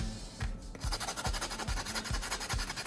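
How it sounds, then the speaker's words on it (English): Sandpaper grinding charcoal into fine powder, a steady series of rhythmic rasping strokes, about seven close, regular scrapes with a brief pause early on. "I'm going to use sandpaper to grind the charcoal into a fine powder."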